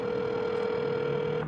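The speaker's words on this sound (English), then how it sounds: "No answer to our phone calls." A telephone ringing tone sounds as one steady, unbroken tone for nearly the whole moment, then cuts off, with no voices.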